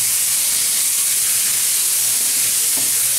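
Cumin paste hitting a simmering Bengali-style bhagon fish curry gives a steady, close, loud hiss and sizzle that holds evenly from start to finish.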